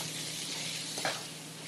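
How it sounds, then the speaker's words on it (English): Red peppers and mushrooms brown in a pan with a constant close sizzle, plus one brief stirring scrape near the end, heard alone. "Now we're going to add in our red peppers and our mushrooms. And we're going to let those brown for about 3 minutes."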